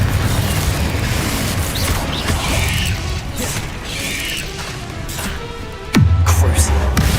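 A Confringo explosive spell goes off in Hogwarts Legacy: a sudden deep boom cuts in near the end of a steady, loud wash of game noise, with faint clanks and a voice in the mix.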